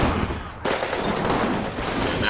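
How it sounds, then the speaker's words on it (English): Dense gunfire and explosions from the World War II strategy game Combat Mission Final Blitzkrieg, a steady loud barrage of overlapping shots and blasts with no pauses. "A lot of gunfire."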